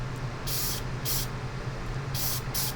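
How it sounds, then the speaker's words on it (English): Spray primer hisses onto a Gundam OZ-06MS LEO 1/144 model kit in four short, crisp bursts of about half a second each, close and steady over a low background hum. "I want to come in and spray that a little bit differently here in a second"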